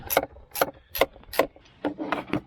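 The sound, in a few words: tightening the air tube clamp on a GMC Terrain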